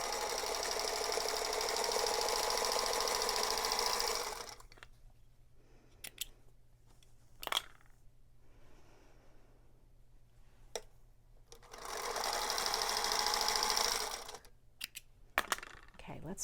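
A sewing machine runs in two bursts while sewing a quilt block triangle seam, a steady whirring hum lasting about four seconds and then two more, with quiet clicks and fabric handling in the pause between.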